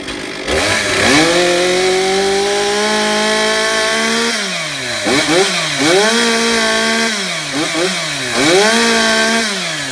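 A chainsaw on a maintenance check starts and runs, revving up to full throttle and dropping back in several rising and falling surges, loud and close with no talk over the engine.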